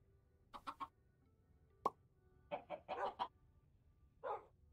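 Minecraft chickens in a giant chicken coop build: several short cluck bursts in two quick clusters, a single sharp plop, then a final cluck, fairly faint against a quiet game background with no talk.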